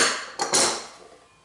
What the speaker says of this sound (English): Okay, getting the clamp off.